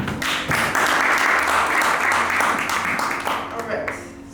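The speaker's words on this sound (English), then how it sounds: "so can you give me a clap?" Audience clapping fills a LinkedIn masterclass hall in Ghana, a dense, steady round of applause lasting several seconds before tapering off near the end.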